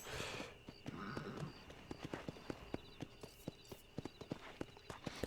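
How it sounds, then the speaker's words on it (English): A horse walks with a steady clip-clop of hooves in the Red Dead Redemption video game, the evenly spaced hoofbeats fairly close and clear over a faint ambient background. "Just gonna walk right under the horse"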